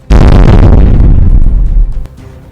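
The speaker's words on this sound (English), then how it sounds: "The blast that killed the dinosaurs was an explosion." A loud sound-effect explosion hits with a sudden deep boom, then a long rumbling roar that slowly fades out over about two seconds, heard alone.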